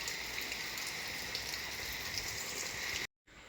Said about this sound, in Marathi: बघा दिसत असेल लाईटवर आता पाऊस पडतो आहे